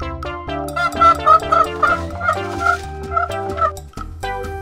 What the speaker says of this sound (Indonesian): Ini adalah suara binatang ternak ayam.